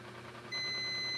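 A multimeter's continuity buzzer sounds over a shorted Acer E5-411 laptop motherboard, starting partway in as a steady high tone under a low background hum.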